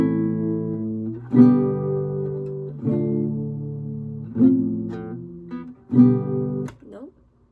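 An acoustic-style guitar plays a song with a single downstroke on each chord change, producing four ringing chords about 1.5 seconds apart that sustain and decay, close and clear with no talking.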